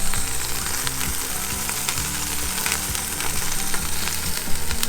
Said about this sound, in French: je vais retrouver les merguez qui sont en train de cuire